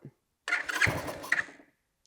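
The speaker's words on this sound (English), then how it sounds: "We heard the motor kick, so we know it's got fuel." A drift kart's small engine kicks over on choke in a workshop, a short rough burst of firing that catches for about a second and then dies away.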